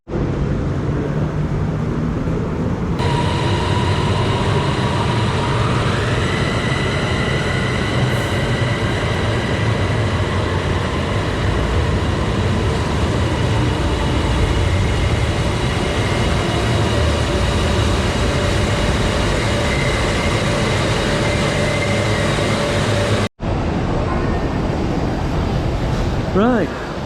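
Steady rumbling interior noise of a moving train from Bangkok to Pattaya, continuous and loud with a rising tonal whine partway through, a brief cut near the end, no talk over it.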